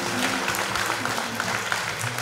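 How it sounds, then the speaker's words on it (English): Dense applause from a crowd at a memorial thanksgiving service fills the space, steady and fairly loud throughout with no pauses. "clap her again, please. Clap her again. Clap her again."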